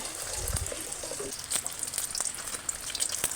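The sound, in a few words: egg frying in oil in a pan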